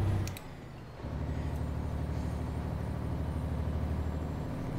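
A 315-horsepower Mack heavy truck engine in American Truck Simulator, hauling a heavy trailer, drones at a steady low pitch after a brief dip near the start, loud and constant throughout.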